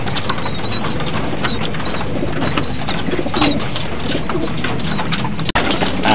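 Many racing pigeons coo in low, overlapping murmurs, with occasional higher chirps and fluttering, close and continuous inside a loft.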